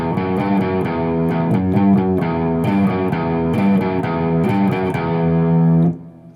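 A heavily distorted electric guitar picks out the opening notes of a minor scale, each note struck in a steady rhythm over a sustained crunchy drone, ringing loud and close before cutting off.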